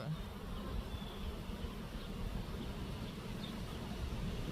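Honeybees buzzing during a beehive inspection, a soft, steady low hum from the open hive with no talking.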